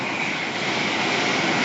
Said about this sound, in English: incoming in is the 1038 Thameslink service to St Albans from Sutton, as we have a fast train coming through